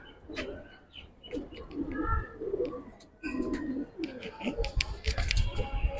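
Loft pigeons, among them a jabra khaki, cooing in soft repeated low calls close by, with light chirps and a faint voice in the background.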